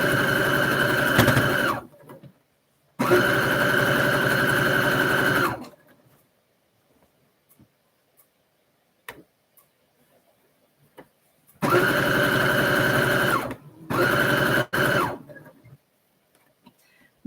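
A sewing machine whirs in loud, steady bursts of a few seconds each, with silent pauses between runs. The first pair of runs is longer, and a later pair is shorter and closer together.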